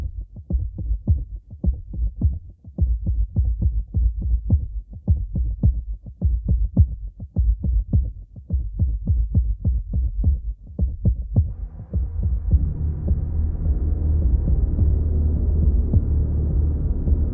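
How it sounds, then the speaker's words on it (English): Deep, subby tom drums from an arcade-style plug-in play a steady heartbeat-like pattern of quick paired thumps, low and loud, then give way to a swelling rumbling sustained bass drone near the end. "That was just a simple tom sound pattern,"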